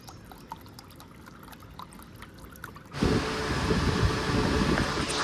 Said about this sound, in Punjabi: ਵੇਖ ਪਾਣੀ ਆ ਰਿਹਾ ਪੰਪ 'ਚ